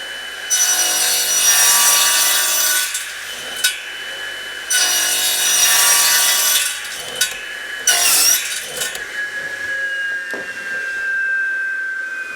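A Saxton 60 tooth TCT saw blade slices through oak in several slow passes, a loud, bright, continuous sawing whine with brief gaps and small knocks between cuts, close and alone.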